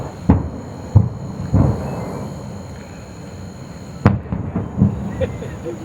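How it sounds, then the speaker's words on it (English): Small propane cans burst at the Blue Rhino propane factory in Tavares, Florida, with sharp distant pops and bangs that fire irregularly, a few close together and then a louder one, over outdoor background noise. "these are just little bullets going off now. Yeah, these are the little cans."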